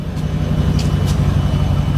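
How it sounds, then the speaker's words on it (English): A Mazda car engine idles nearby with a steady low rumble and even pulsing, loud and continuous, with a few faint higher ticks above the drone. "currently it's still idling, as I'm sure you can hear"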